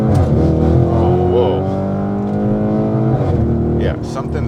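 Lamborghini Urus Mansory Edition with a suspected broken muffler and a transmission error, its engine and exhaust droning loudly and close, holding a steady pitch, then rising and dropping as the revs change.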